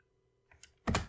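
Keystrokes on a computer keyboard as Irish street names are entered into a map, a short burst of close, crisp taps after a quiet start, with no talking.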